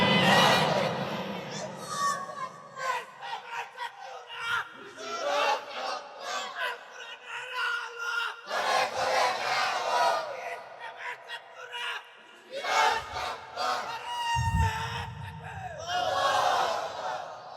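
A crowd at an outdoor religious gathering in Narsingdi roars back the takbir in loud, repeated chanted waves, with a lead voice calling out between the responses.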